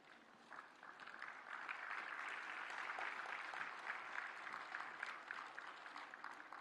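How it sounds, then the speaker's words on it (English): An audience at a government health symposium applauds the official release of a technologies compendium, steady, even clapping from a large room heard at a moderate distance and sustained throughout. "a round of applause on the release of HTA Technologies Compendium by the Honorable Minister"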